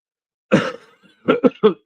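A cough up close, one harsh burst followed by a quick run of three or four shorter coughs.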